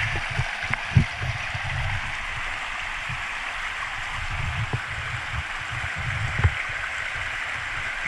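Water runs and splashes steadily over a rock being washed during a rockhounding session, a continuous close rushing wash with a few louder splashes, no talking.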